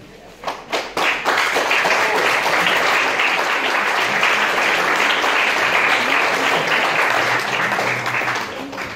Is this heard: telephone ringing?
no